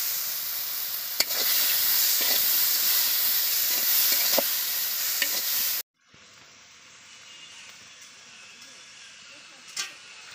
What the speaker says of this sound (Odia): ତେଲରେ ଚିଙ୍ଗୁଡ଼ି ମାଛ ପକେଇଦେଲି